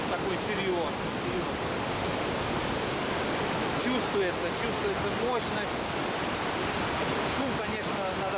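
Niagara Falls thundering from its side channel, a loud, steady, hissing roar of heavy falling water throughout, with someone briefly speaking over it.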